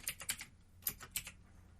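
Quiet clicks of typing on a computer keyboard, a few short bursts of keystrokes with brief pauses between them, close and soft with no voices.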